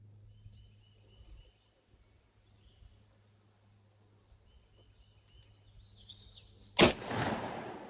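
A single sharp, loud blast from a .45-70 Government rifle fired standing outdoors, cracking suddenly near the end and trailing off in a decaying echo after a quiet stretch of faint ambient chirps.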